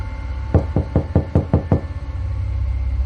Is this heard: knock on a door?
yes